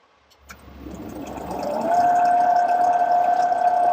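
A wood lathe spinning up and settling at about 1200 RPM while turning a piece of timber with twisted grain for a mallet handle, a steady whining hum that rises and then holds, no talking.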